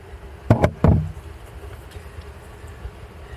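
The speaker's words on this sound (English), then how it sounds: "So we close the door." The metal door of a DIY drip waste oil burner swings shut with two or three quick, loud clanks close by, followed by a low steady rumble.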